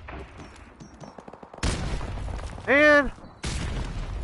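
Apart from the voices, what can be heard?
grenade explosions in a video game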